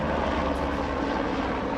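A helicopter flies overhead near a temple. Its engine makes a steady, loud, continuous low rumble and drone that fills the whole stretch without letting up, with no talk.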